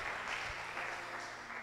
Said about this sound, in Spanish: les mandamos un abrazo y un aplauso para ellos que están conectados